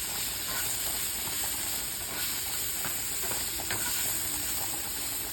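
Zucchini searing in a hot frying pan, a loud continuous hiss and sizzle with faint crackles, steady and close throughout.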